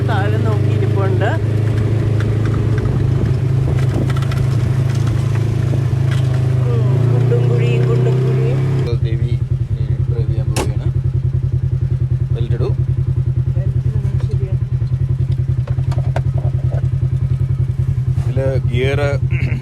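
UTV engine running steadily on a trail at Hatfield McCoy Pocahontas, a loud continuous low drone with clatter and knocks over it, while someone talks throughout.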